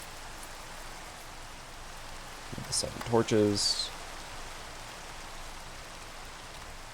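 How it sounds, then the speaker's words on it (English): Steady hiss of rain falling in the video game Minecraft, an even wash throughout with someone briefly speaking over it midway. "of course it starts raining"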